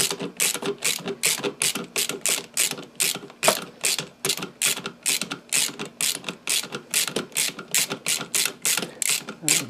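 A hand ratchet clicks in rapid, even bursts while driving a bolt into a Kawasaki two-stroke 750 engine, close and dry, with steady repeated strokes and no talk.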